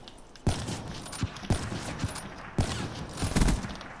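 Rapid gunfire rings out in the video game Call of Duty: Black Ops III, with close, punchy shots roughly every half second and a denser burst toward the end, all over a busy game soundscape.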